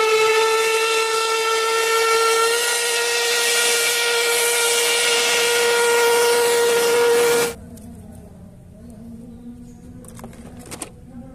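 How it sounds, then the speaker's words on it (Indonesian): A loud, steady toy steam train whistle blows continuously for several seconds, then cuts off abruptly, leaving quieter background noise with a few faint clicks. "lihat, ada kereta api klasik Koko Carlos"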